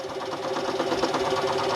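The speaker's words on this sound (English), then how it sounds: "I do like to turn the lathe just down a little bit" A wood lathe turning an antique cherry pepper mill at reduced speed gives a steady, close mechanical whir with a rhythmic pulsing hum, running continuously without talk.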